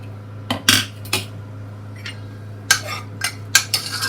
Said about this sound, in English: The cooker has cooled and now I am going to open it.